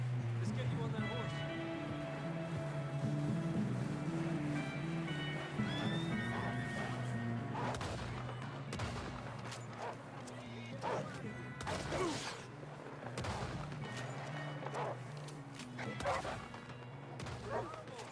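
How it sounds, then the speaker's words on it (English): In Red Dead Redemption 2, a horse neighs loudly and its hooves clop, while dogs bark and game voices are heard in a busy, noisy scene. "Let's get you on that horse."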